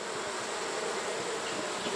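Honeybees swarm and buzz around an open hive during autumn hive work, a dense, steady drone filling the full two seconds at close range with no voices.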